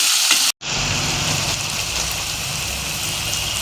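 Onions sizzling steadily in a pan as they fry toward light brown for a chicken leg masala, a dense close crackle broken by one brief silent gap near the start.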